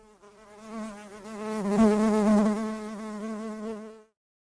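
A bee buzzes in a short intro, a close, loud, wavering drone that swells and fades over a few seconds before cutting off cleanly.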